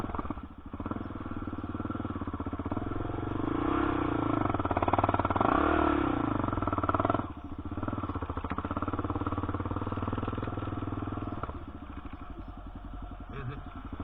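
A dirt bike engine runs steadily on a hot, still off-road trail in a ditch-lined bottom, the motor running a little warm, its droning roar swelling and dipping as the rider crosses rough ground.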